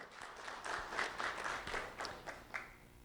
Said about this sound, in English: Round of applause for Daniela.